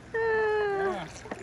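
A cat gives one clear, drawn-out meow with a falling pitch, close and prominent, set outdoors by water with a faint splash after it.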